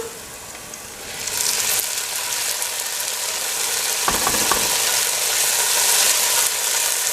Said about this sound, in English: So we're going to add the capsicum.